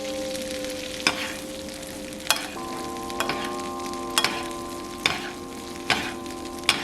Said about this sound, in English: We're just gonna baste it for about a minute